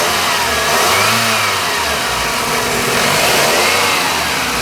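A 2001 Toyota Corolla engine with a faulty VSV revs loudly and continuously during a smog test, the pitch rising and falling as it is held at speed, close up with no talking.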